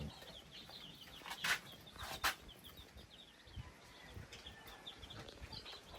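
Three-day-old chicks in a raised brooder house give soft peeps and chirps, with a couple of sharper calls standing out among faint rustling and background noise.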